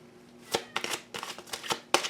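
A deck of tarot cards is shuffled by hand close up in a quiet room, quick riffling bursts and soft slaps in an uneven rhythm over a faint hum.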